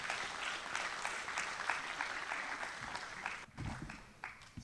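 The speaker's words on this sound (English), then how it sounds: "let's thank and give a round of applause to the parents" Students at an eighth-grade middle school promotion ceremony applaud their parents, a steady wash of many hands clapping that dips briefly near the end before continuing.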